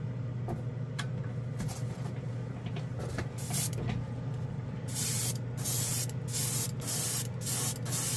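A Gaahleri airbrush sprays paint at low PSI, hissing in short bursts at first and then in longer, louder sprays, with a steady low hum running underneath.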